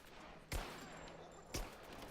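Two gunshots in the video game Rise of the Tomb Raider, fired about a second apart, each a sharp loud crack with a short decay over steady background ambience.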